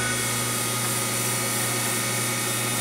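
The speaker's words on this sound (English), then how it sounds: "Sand pretty much until there's no dust." An olive wood pen blank spins on a lathe while being sanded with 240 grit sandpaper, giving a steady, close, continuous hum and hiss with no breaks.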